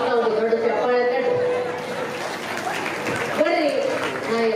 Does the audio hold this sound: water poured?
no